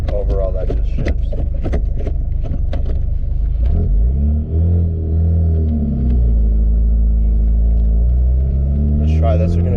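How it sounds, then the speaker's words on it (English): A 2017 Ford Focus RS engine running while driving, a loud low rumble with rising and falling revs, heard under people talking throughout. "We're going to do a quick 40-minute roll, maybe a 30 roll."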